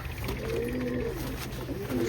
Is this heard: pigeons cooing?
yes